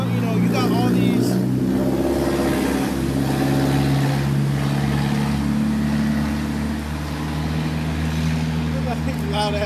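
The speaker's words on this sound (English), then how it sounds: "Loud ass cars, and they're not going nowhere." Loud car engines rev outside, a steady heavy low rumble running through the whole stretch with rising and falling throttle, and a voice talks over it.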